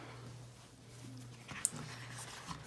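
A dog whimpers and cries indoors, a faint, thin whine that rises briefly near the end, quiet and alone.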